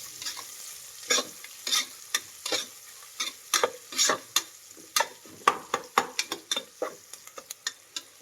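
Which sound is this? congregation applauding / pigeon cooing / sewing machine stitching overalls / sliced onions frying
sliced onions frying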